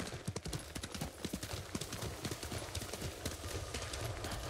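Horse hooves clip-clop in a steady, quick rhythm as a mount travels in the video game Ghost of Tsushima, fairly close and continuous over faint ambient background, with no talk over it.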